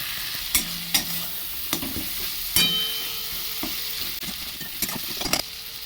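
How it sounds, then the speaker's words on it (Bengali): A spice paste of turmeric, cumin, coriander and Kashmiri chili powder is stirred and sautéed in a pan, with steady sizzling frying and several sharp scraping stirs of the spoon, close and alone. "আবারও কষবো পুরো মশলাটাকে"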